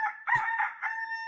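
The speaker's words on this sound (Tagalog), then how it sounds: "Ang tandang ay gumagawa ng..." A rooster crows once in an animated Sonic and Knuckles cartoon dubbed in Tagalog: a loud, close, drawn-out crow lasting just over a second, with a brief burst in the middle and no talk over it.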